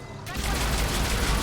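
Dense, loud gunfire rattles almost continuously from a Mass Effect 3 squad battle, a rapid stream of shots that kicks in after a brief quieter opening and holds steady to the end.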